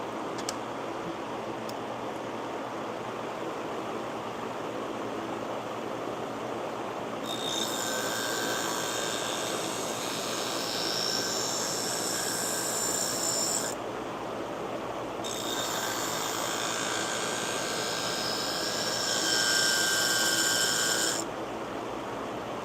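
A sharpening wheel grinds the blade of Gingher sewing scissors, a steady motor hum under two long, bright high-pitched scraping passes of metal against the wheel, with a short pause between them.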